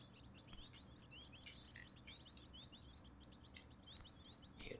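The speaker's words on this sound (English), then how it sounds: "like the sounds of birds." Birds chirp and tweet in rapid, repeated calls as ambient sound in the Tomb Raider II video game, faint and steady over a low background rumble with no talking.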